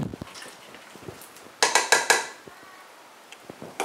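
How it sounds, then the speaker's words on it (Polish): A kilogram of strawberries is mashed lightly in a pot for homemade jam, giving soft squelches and then a cluster of four clattering knocks of utensil against the pot, close and moderately loud. "Kilogram truskawek wrzucam do garnka. Lekko je ugniotę."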